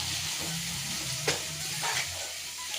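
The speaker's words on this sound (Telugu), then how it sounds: "ఆ నూనెలో అనేది గోంగూర వేగాలి" Gongura leaves fry in hot oil with a steady, close sizzle and crackle, punctuated by a couple of brief stirring scrapes, with no voices.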